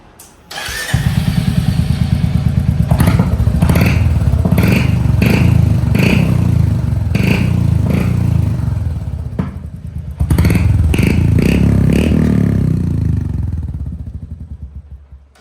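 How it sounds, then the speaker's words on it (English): Royal Enfield Hunter motorcycle fitted with a KP Performance aftermarket exhaust, loud and close: a deep thumping idle broken by repeated sharp revs, a short pause, then more revving that fades down at the end. "तो हमने एग्जॉस्ट लगा दिया है"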